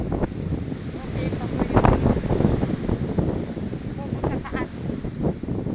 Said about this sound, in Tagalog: Ang lakas po, sobra talaga ditong hangin.